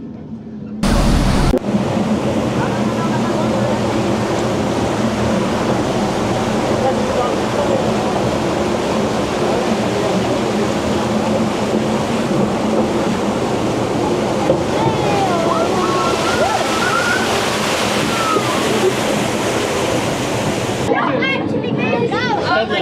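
Loud, continuous rushing water from a theme park waterfall near a water ride, heard from a train ride passing behind it; a dense roar holding evenly throughout, with faint voices underneath.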